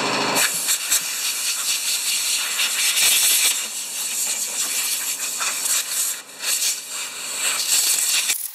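Compressed air blasts around the carburetor of an oil-covered Yard Machines lawn mower, a loud, continuous rushing hiss lasting several seconds with slight surges and one brief dip.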